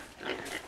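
A pig oinks in a video game set on a farm pasture among sheep and other animals, a short, close grunting call lasting under a second with no talk over it.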